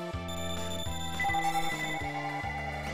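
A telephone rings with a repeating melodic tone pattern, steady and moderately loud, going on without any talk.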